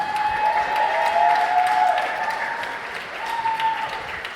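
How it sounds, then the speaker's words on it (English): Steady crowd applause at a youth participation event fills the room, dense and continuous, with a faint tonal hum running beneath the clapping. "Another big round of applause for Amari."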